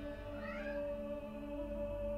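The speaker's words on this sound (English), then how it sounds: "I mean, I think you guys can hear my cat." A house cat meows once, a short rising cry over a steady electrical hum and low room rumble.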